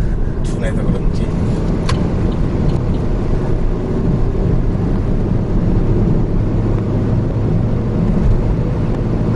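A manual Chevrolet Aveo's engine revs as the driver accelerates hard, a steady, loud mechanical drone with road noise inside the cabin while someone talks over it throughout.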